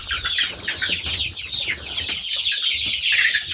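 Laying hens, white layers in a backyard flock, cluck and squawk continuously at close range, with a busy overlapping chatter and some wing movement.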